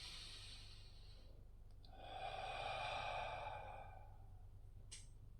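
A slow, deep breath taken during a guided breathing exercise, a soft airy inhale swelling and then fading over about two seconds, close and quiet, with no talking.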